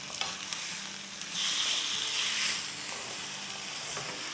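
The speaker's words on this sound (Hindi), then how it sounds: "देखिए ये हमारा फ्राई हो रहा है" Chicken thigh keema fries in a pan with a continuous hissing sizzle that swells louder partway through, along with faint stirring scrapes and no talking.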